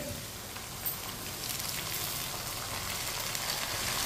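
Chopped tomato hits a pan of cooked garlic and sizzles and crackles steadily, a soft, constant frying hiss that grows slightly louder toward the end.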